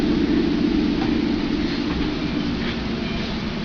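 A cartoon tugboat named Theodore chugs along in a steady, continuous rumble of rhythmic engine pulses, close and fairly loud, with no voices.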